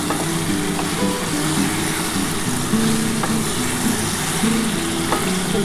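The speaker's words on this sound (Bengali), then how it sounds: "খুব ভালো করে কষাতে হবে বন্ধুরা।" Large chicken pieces sizzle in a pan while being sautéed for egg chicken biryani, a dense continuous frying hiss with faint stirring clinks, close and fairly loud, no speech.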